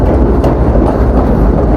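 A train pulls into a railway station in Sri Lanka with a loud, continuous close-up rumble and rattle of wheels and carriages.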